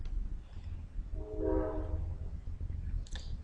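A train passes close to a house beside the track and sounds its horn: a low rumble throughout, with a brief, moderately loud horn blast in the middle and a sharp click near the end. No one speaks.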